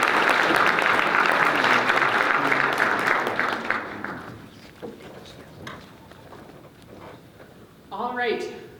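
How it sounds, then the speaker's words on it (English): An audience at a student research symposium applauds after a talk: a full burst of clapping that thins out after about four seconds, followed by someone speaking. "Let's give them a round of applause"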